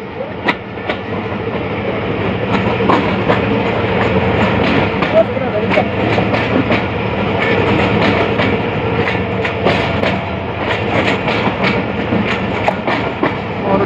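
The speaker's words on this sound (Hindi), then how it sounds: "और ट्रैक साउंड आप सुन सकते हैं यहाँ पर बहुत ही लाजवाब है।" Train wheels of the Allama Iqbal Express clatter rhythmically over rail joints in Pakistan, a loud continuous rumble punctuated by repeated clickety-clack beats as carriages roll past close by.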